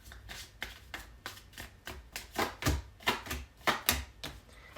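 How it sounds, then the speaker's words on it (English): Tarot cards shuffled by hand, a rapid series of about a dozen crisp riffling bursts in a regular rhythm, close and fairly loud, with no talking. "Why are your cards not shuffling for me?"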